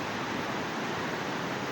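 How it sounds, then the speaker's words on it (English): The Chumico waterfall on a farm in Guanacaste province, Costa Rica, gives a steady broadband rush of falling water, even and continuous from start to end, moderately faint with no voices. "This is the waterfall Chumico"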